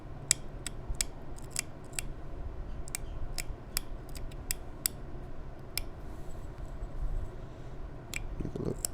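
Sharp clicks and ticks of a banded obsidian Scottsbluff point being pressure-flaked along its edge, irregularly spaced snaps over a low steady background hum, close and fairly quiet, with no talking.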